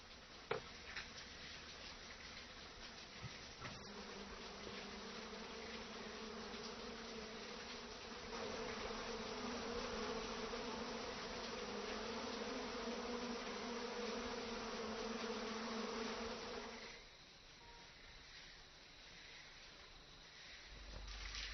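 Bees buzz around a beehive in a mountain hermit's dwelling, a steady droning hum that swells louder midway and then drops back, heard alone at close range.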